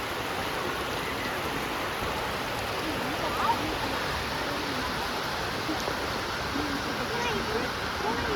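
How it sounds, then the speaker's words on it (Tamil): Water rushes over the Wadi Dayqah dam after rain, a steady broad roar of overflowing flow that continues evenly throughout, with a faint voice in the background. "டேம் வந்து இப்போ மழை பெஞ்சதுனால நல்லா தண்ணி வந்து ஓவர்ஃப்ளோ ஆகி வந்துக்கிட்டுருக்கு"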